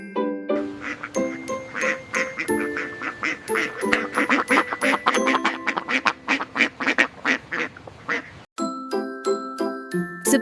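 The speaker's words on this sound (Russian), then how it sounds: "Уточка говорит кря-кря." Duck quacking in a rapid, loud run of repeated calls with bright jingling tones mixed in, pausing briefly before a few more quacks near the end; no speech.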